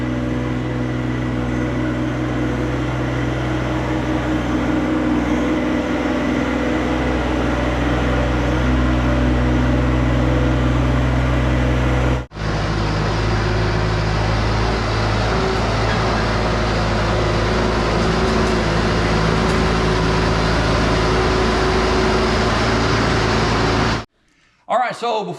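A Bobcat skid steer engine runs continuously nearby with a steady droning hum, cutting off briefly partway through before resuming, then stopping near the end.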